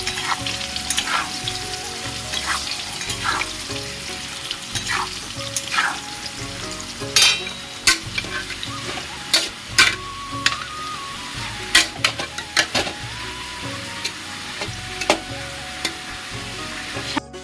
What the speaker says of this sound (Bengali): আলু ভাজা প্রায় হয়ে এসছে